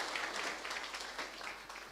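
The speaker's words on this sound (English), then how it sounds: "Now start clapping softly." Soft applause from the audience at a book launch in Nairobi: a brief, faint patter of many hands clapping, heard from a distance.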